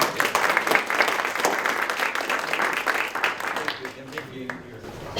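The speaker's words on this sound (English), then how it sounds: "Thunderous applause for our..." Applause from attendees at a community foundation meeting, a sustained crackle of many hands clapping that gradually thins out, with speech mixed in underneath.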